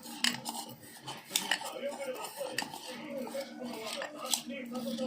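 A spoon scrapes and clinks against a bowl as chopped onions are mixed with salt and chili powder, with irregular close metallic taps and rattles and soft background movement.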